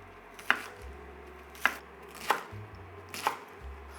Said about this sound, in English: So first we cut them in half, then we quarter it.